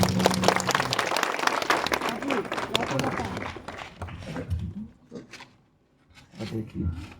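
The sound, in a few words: congregation clapping at a vehicle inauguration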